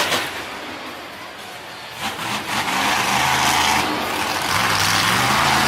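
The Bounty Hunter monster truck revs at a Monster Jam arena event in Nashville in 2019, its engine roaring loudly with rising and falling pitch sweeps that build from the midpoint over broad arena noise.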